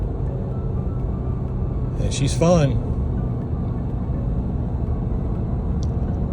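A Porsche Panamera GTS V8 engine droning steadily at speed in fourth gear, a low continuous rumble heard from inside the cabin, with a person speaking briefly over it.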